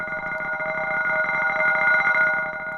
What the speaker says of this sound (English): So the idea of granular sampling is that I can pick any small part of the sample and play it back continuously.